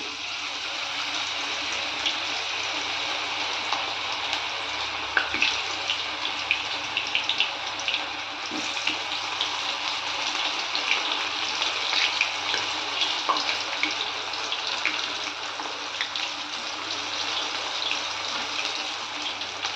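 Cauliflower chilli pieces go into hot oil in a pan and fry with a steady, bright sizzle and scattered crackling pops, constant at moderate loudness and close up, with no talking.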